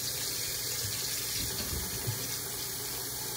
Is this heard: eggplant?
no